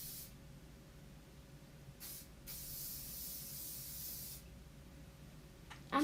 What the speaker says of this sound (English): you do want to give it a good generous helping of hairspray